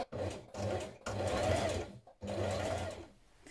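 A sewing machine runs long top stitching with top-stitching thread on jeans, its motor whirring in several steady bursts separated by short pauses, close and clear with no talk.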